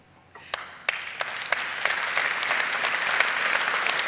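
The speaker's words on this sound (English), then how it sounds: "I hope you can hear your applause" An award ceremony audience breaks into applause, starting with a few scattered sharp claps that quickly swell into a full, dense round of clapping.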